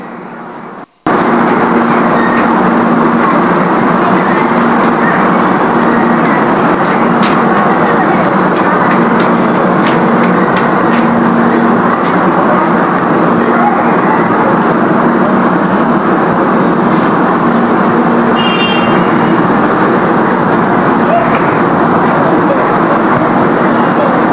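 An MRT train at Baclaran station rumbles continuously, a loud, broad roar with a faint steady hum underneath that stays constant throughout after a brief quieter start.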